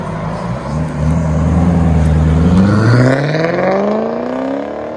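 A 2005 BMW 545i with a 4.4L V8 and straight-pipe exhaust revs loudly up through a rising engine note and then eases off, close and sustained with no talking.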